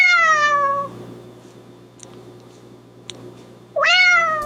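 An AI-generated cat meows, one long drawn-out call at the start and another rising meow near the end, loud and close, with a quiet gap between them.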